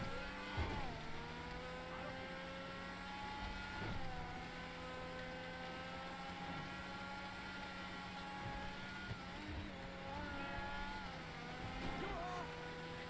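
Tigon supercar engine in GTA 5 Online driven hard: a loud, continuous high-pitched engine whine that climbs through the revs, with sharp drops and surges at gear shifts every few seconds.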